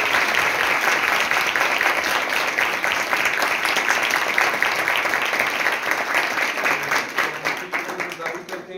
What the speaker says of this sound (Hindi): जितने खुश हैं उतनी तालियां बजाएं।